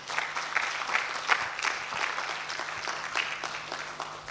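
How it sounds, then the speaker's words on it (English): Sustained applause from a conference audience at a constitution commemoration event at a law school, steady and moderately loud clapping filling the room for several seconds with no speech. "So please give him another round of applause."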